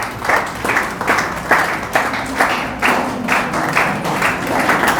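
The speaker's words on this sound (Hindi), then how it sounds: "जोरदार तालियों के साथ में स्वागत।" Audience clapping welcomes a garlanded guest at a felicitation ceremony for a student selected for a school history lecturer post, with steady claps that swell in rhythmic pulses for several seconds.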